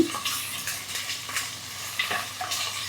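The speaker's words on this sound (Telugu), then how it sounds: "కొంచెం ఫ్రై అవనిద్దాం ఇది కూడా" Mint leaves frying in a pan for milmaker (soya chunk) biryani sizzle close up, with repeated stirring scrapes and soft clatter in an irregular rhythm.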